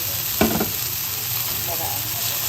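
Chopped tomato and ground meat fry in a pan with a steady close sizzle. A brief louder burst of stirring comes early, and the hiss stays constant with no talk.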